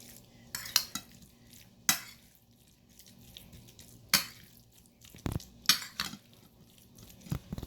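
Spoon stirs a bread patty filling in a metal bowl, with sharp, irregular clinks and scrapes against the sides between soft, wet mixing sounds, close and fairly quiet, no voices.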